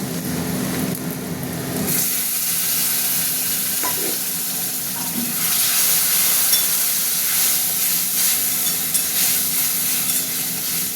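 Spices sizzle hard in a hot pan: ground cumin and a pinch of salt frying as water is poured in, a steady loud hiss and crackle with a few scraping stirs, no voices.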